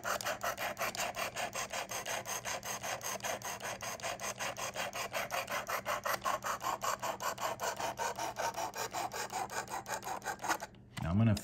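A Damascus steel Civivi knife blade drawn over a Worksharp Precision Adjust sharpening stone in rapid, steady back-and-forth rasping strokes, close and continuous, with a low hum beneath and a short pause and thump at the end.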